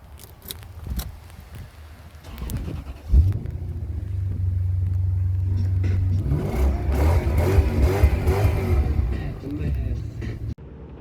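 A Lexus LS430 engine starts and idles with a low, steady rumble, while a person talks over it near the end.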